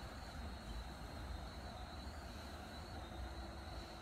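MBTA commuter train on the Stoughton to Boston line running at top allowed speed in Train Sim World, a steady low rumble of wheels with a thin high whine, constant and fairly quiet throughout.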